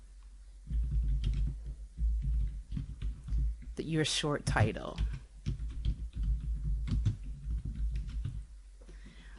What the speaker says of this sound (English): and begin typing